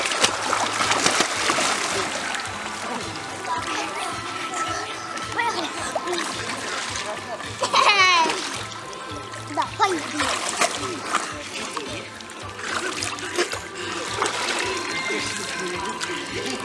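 Children dive and splash in an outdoor hotel swimming pool at Hotel Veles in Port, with repeated near splashes and sloshing water amid excited voices and chatter.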